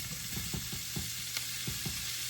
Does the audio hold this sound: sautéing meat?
yes